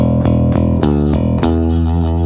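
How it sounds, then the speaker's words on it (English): An electric bass plays a few plucked notes with tube-style distortion blended into the clean DI signal, each note a thick, gritty, buzzing attack that sustains into the next, loud and up front without any voices. "And then you can blend in the distortion."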